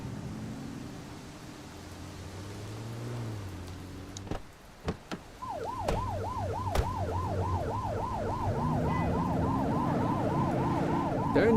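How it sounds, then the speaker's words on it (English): A police car siren wails in rapid rising and falling sweeps during a police simulator video game set in an open-world city. It starts partway through and keeps going loud and steady over a low vehicle rumble, with no talking. "Turn that siren off."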